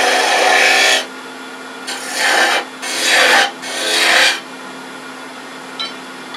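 Wood turning tool cutting on a lathe while an acorn box is shaped, giving one long scraping rasp and then three shorter passes, close and loud over a steady motor hum.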